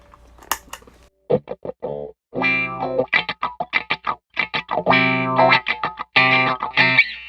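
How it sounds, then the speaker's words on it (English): Electric guitar played through a wah-wah pedal with a pronounced sweep, short choppy chords and notes in a stuttering rhythm, with a brief gap near the start and sustained swells near the end, close and fairly loud with no talking. "I found this one to have a more pronounced wah sound"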